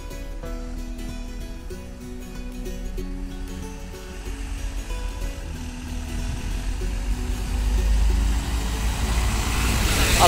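Engines rumble low and steady from vehicles stuck in a traffic jam caused by roadwork, a continuous near drone that slowly grows louder toward the end, with no voices.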